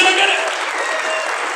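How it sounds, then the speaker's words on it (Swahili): A church congregation applauding and cheering, a brief dense wash of clapping mixed with shouting and ululation, loud and sustained for a moment. "pigia Yesu makofi mazuri, shangwe na vigelegele"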